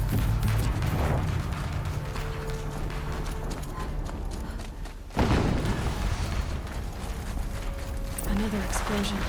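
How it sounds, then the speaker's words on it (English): A heavy boom and crash erupt midway through Horizon Zero Dawn Remastered gameplay, cutting sharply into a rumbling soundscape of hoofbeat-like mechanical clatter, with voices speaking throughout. "Another explosion."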